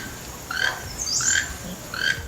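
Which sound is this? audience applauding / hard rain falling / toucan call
toucan call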